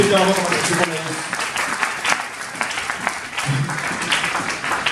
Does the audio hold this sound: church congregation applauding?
yes